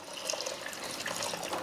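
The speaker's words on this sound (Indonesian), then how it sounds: "pertama tentu saja kita tuangkan air, sesuaikan dengan jumlah lumut" Water poured steadily over a batch of harvested wall moss, a continuous close splashing and trickling fill with no talk.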